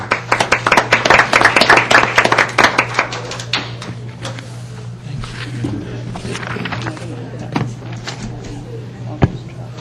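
Audience clapping for Lou at a city council special called work session in Milton, dense and close for the first few seconds, then thinning to scattered claps over a steady low hum, with faint murmuring voices.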